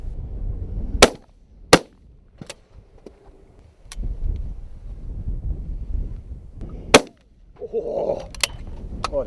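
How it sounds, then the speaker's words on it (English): Shotgun shots fired at driven grouse on Farndale Moor, sharp cracks spaced a few seconds apart, with some sounding farther off, over light wind noise across the open moor. "putting on an excellent display of shooting"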